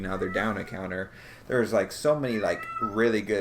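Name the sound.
cat meowing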